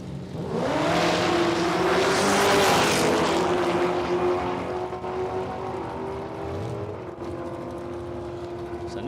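Two drag racing cars run side by side down the strip, one a WH Statesman with an LS engine and a small belt-driven supercharger, at an Outlaw Nitro Funny Cars meeting at Palmyra Dragway. Their loud engines swell into a harmonic roar, then hold a steady drone as they pull away.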